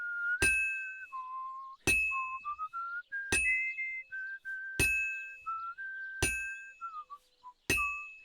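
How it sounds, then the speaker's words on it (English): Tuneful whistling of a simple melody in the video game Kingdom Come: Deliverance II, punctuated by six evenly spaced bright metallic dings that ring out like struck glass. "We actually got some good whistling there."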